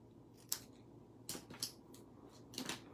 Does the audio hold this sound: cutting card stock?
yes